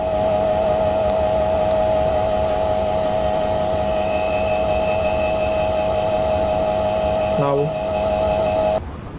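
A shear box test machine runs with a steady mechanical hum and constant tonal whine, loud and continuous, ending in a brief clunk and a shift in tone near the end.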